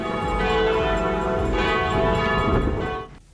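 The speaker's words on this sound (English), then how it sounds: "Church bells announce the beginning of festivities." Church bells ring in Nicaragua to open the Saint Sebastian festivities, a dense, loud, overlapping metallic clanging that rings on steadily before cutting off near the end.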